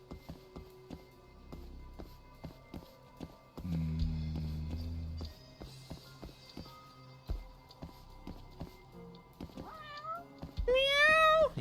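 Cat meowing in the video game Judgment, two or three rising meows near the end that grow loud and close, after a stretch of ticking footsteps and background game sounds.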